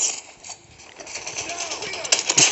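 Gunfire in a shooting video game comes as rapid, crackling bursts of shots that build toward the end, mixed with a voice talking over the action.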